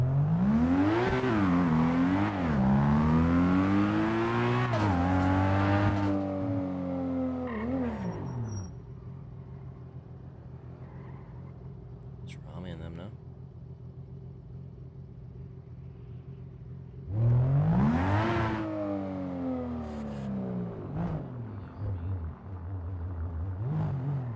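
A Nissan Skyline R32 driven in GTA, with loud engine revs climbing and dropping through gear changes, then a quieter idling hum, then another hard burst of acceleration.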